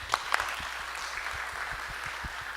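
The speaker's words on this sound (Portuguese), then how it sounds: "palmas para o grupo" A parish leadership seminar audience claps for a group, a thin, moderate patter of scattered hands with a couple of sharper claps near the start, fairly close and steady.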